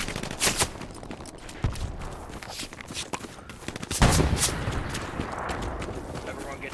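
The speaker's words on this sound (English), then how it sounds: "Everyone get down, we got a heavy machine gunner." Heavy machine gun fire in Hell Let Loose, bursts of sharp gunshots, some near and loud, others distant, spread across the stretch, with a bigger blast midway and voices talking over the shooting.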